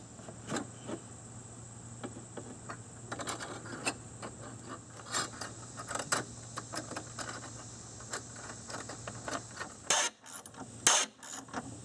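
A metal bracket being refitted on a D.E. pool filter: scattered close clicks, clanks and ratcheting taps of hardware over a low steady hum, with a couple of sharper knocks near the end and no talking.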